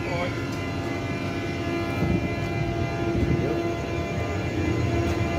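An Alvia S130 train pulls out of Lleida station, a steady rumble of rolling stock and running gear with tonal hum, continuous and fairly loud over the full stretch, with people talking nearby.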